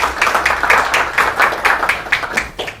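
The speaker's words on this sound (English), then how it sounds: "Please, nice round of applause for Rosa Koire." Clapping rises and falls in rhythmic bursts from an audience in the New Hampshire legislature, welcoming speaker Rosa Koire with a moderately loud, close round of applause lasting a few seconds.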